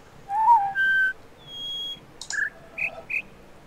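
A person whistles in imitation of a jungle bird call: a few rising and falling whistled notes, then three short chirpy bursts near the end, clear and close over quiet background hiss.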